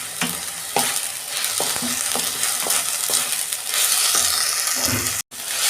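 Ginger, garlic and tomato sizzle steadily in a hot pan as they are stir-fried for a fish recipe, with repeated scraping strokes of a spatula cutting through the continuous frying hiss, close up and without talk.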